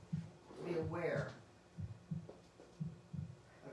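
Slow heartbeat thumps play softly in the background of a quiet meditation during a spiritual centre's Sunday service, a steady lub-dub rhythm, with a voice speaking over the first part.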